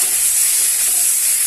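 A salted kabuli chickpea and potato curry hisses loudly and evenly in a pan during a brief stretch of stirring, close up and without talk.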